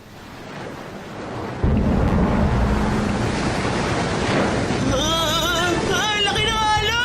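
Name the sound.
ocean waves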